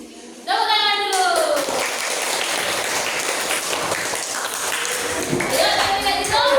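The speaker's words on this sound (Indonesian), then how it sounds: "Tepuk tangan dulu." Children in a classroom clap their hands together, a dense burst of applause that starts abruptly and continues for several seconds, with young voices calling out at the start and end.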